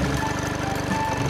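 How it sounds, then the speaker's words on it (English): A push lawn mower runs steadily and close by in a small yard, its low engine drone continuous and loud throughout with a faint rhythmic pulse. "This isn't a very big space, so it's perfect to use the push lawnmower."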